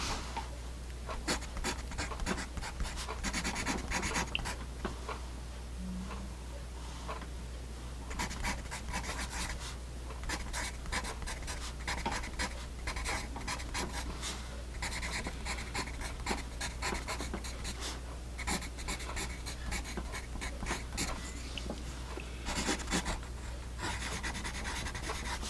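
A HEMA HB pencil writes on paper in a long run of close, scratchy strokes, with brief pauses between bursts of scribbling and no talking.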